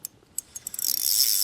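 Fishing reel drag clicking as line runs out while a bass pulls, starting as a few sparse, quiet ticks that speed into a fast, continuous buzzing ratchet near the end.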